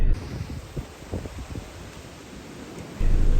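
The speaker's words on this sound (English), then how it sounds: "it's chucking it down with rain today" A steady, dense hiss of heavy rain pours throughout, with a deeper rumble swelling near the end.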